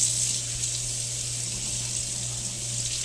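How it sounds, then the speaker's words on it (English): Cold tap water runs steadily from a faucet into a kitchen sink while raw chicken is rinsed under it, a continuous close hiss of water throughout with no talking. "rinse my chicken under cold water"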